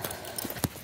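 Horse hooves clip-clop on the ground of a balka (a ravine) in a short run of a few close, distinct steps, fairly quiet, with no talk over them.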